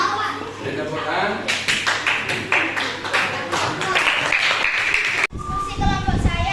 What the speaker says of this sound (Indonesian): Beri tepukan.